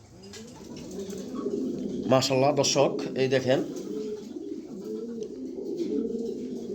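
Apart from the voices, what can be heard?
red checker pigeons cooing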